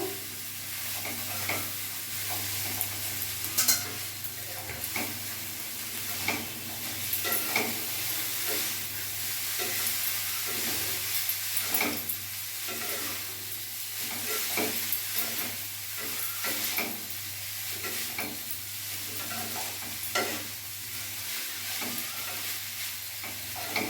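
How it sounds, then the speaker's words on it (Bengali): Hakka noodles are stir-fried and tossed in a hot pan, with a constant close sizzle and hiss and repeated scraping and clattering of a utensil mixing them, with no talking. "নুডলসটা পুরো দিয়ে দেবো। এবার আমি ভালো করে মিশিয়ে নেব।"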